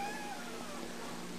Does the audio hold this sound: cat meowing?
yes